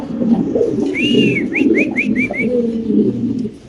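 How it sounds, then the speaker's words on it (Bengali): A pair of fancy domestic pigeons, beauty and stature breeds kept by a seller, coo in low, steady rolling tones, with a few short bright chirps from other birds partway through, close by and without speech. "আরেক জোড়া কবুতর ইনশাল্লাহ দেখাচ্ছি আপনাদের"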